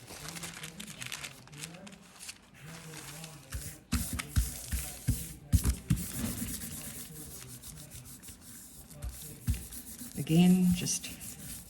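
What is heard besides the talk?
hand rubbing paper over plant on gel printing plate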